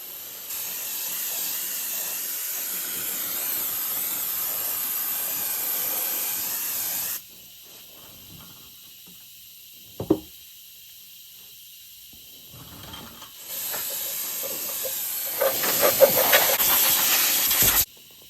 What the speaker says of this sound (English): we're gonna spray this down with some carburetor cleaner to get any oils and everything off